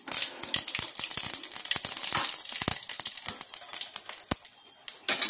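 Dried red chillies and whole cumin seeds dropped into hot oil, a loud close crackling sizzle with rapid irregular pops and spits, no talking.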